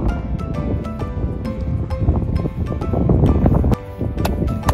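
Wind buffets the microphone outdoors at a park in continuous gusty rumbles, with scattered clicks and rustles, fairly loud throughout.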